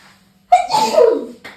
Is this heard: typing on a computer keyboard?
no